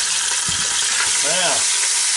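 A pot roast sears in a Ninja Foodi Deluxe, giving a constant loud sizzle with a few clunks and scrapes as the meat is turned, and a voice briefly speaks over it.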